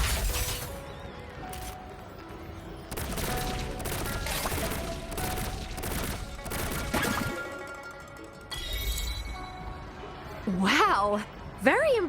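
Shooting crackles in the Moon Shooter minigame of Wuthering Waves, a mobile game, as a run of quick bright hits and bursts under a musical game backdrop, with swooping chime-like effects near the end.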